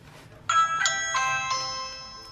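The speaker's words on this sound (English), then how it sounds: "somebody rang the doorbell" A home security doorbell camera, a Ring-style Doorbell Pro, sounds its chime once, close and clear, a bright multi-note ding-dong tone that rings out and fades over a couple of seconds in a quiet room.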